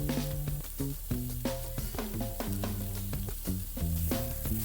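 Bok choy stir-frying in a pan with oyster sauce, pepper and salt, giving a soft, steady sizzle with intermittent clattering taps and scraping from tossing, fairly quiet and close.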